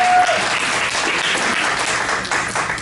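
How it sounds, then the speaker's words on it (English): Audience applause for a comedian's girlfriend at a comedy roast, a steady, loud wash of clapping from a crowd lasting throughout. "She deserves a round of applause"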